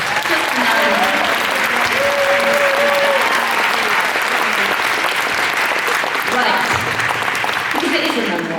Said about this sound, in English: I'd like you to give her one more round of applause